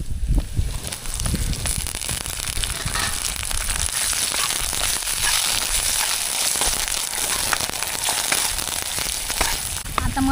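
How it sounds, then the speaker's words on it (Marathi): Chopped onion frying in a pan for a fish masala dish, with a steady, dense crackling sizzle running close and loud throughout. "कांदा शिजून देते चांगलं."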